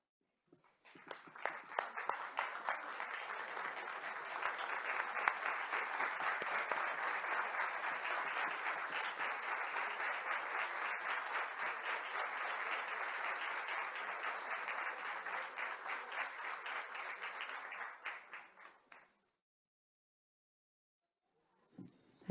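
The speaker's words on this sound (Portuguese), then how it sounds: "eu solicito que as palmas sejam batidas" Sustained applause from an audience honoring medal recipients at an educational merit awards ceremony, steady dense clapping for about eighteen seconds before it stops abruptly into silence.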